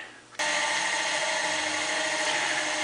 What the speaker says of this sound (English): we're going to put the body on. Get that turned down to size and shape and sanded